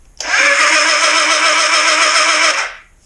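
A 1981 Suzuki GS650GL motorcycle engine cranks over on the starter for about two and a half seconds, a loud, continuous whirring grind that starts abruptly and then fades out.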